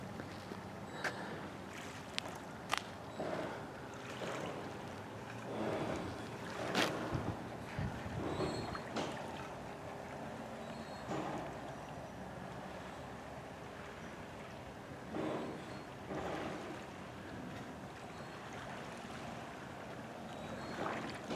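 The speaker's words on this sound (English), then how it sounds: "Those waves sound so nice." Waves lapping the shore of Table Rock Lake, a steady soft wash with irregular splashes and surges through the whole stretch, moderately close, with no voices over it.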